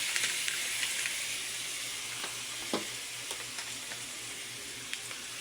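Dried fish (tuyo) frying in a pan gives a steady, close sizzling hiss, with sharp crackles and pops scattered throughout and no talking.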